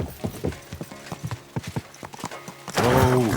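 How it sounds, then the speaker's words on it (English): Horse hooves clip-clop in an uneven rhythm in Kingdom Come Deliverance II, building to a loud, close whinny at the end. "Easy. Good horse."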